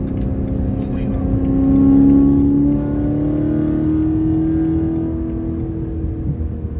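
A BMW E92 M3 with a Valvetronic exhaust drops a gear and accelerates near an airport, its engine note swelling to a loud rising drone and then holding steady, with someone talking over it.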